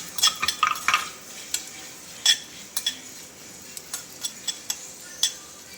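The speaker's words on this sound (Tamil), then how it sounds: "நம்ம எடுத்து வச்சிருக்கிற மசாலா பொருட்கள் எல்லாம் போட்டு நம்ம லேசாக ரோஸ்ட் பண்ணிக்கிறோம்" Whole spices dry-roast in a hot pan for mutton kuzhambu, with a spoon stirring and scraping in scattered light clinks and ticks over a faint sizzle. No one speaks.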